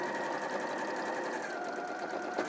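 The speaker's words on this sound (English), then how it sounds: "This is the last seam of the 12th block." A domestic sewing machine runs continuously at close range, stitching the final seam of a quilt block with a fast, even whirring hum and no pauses.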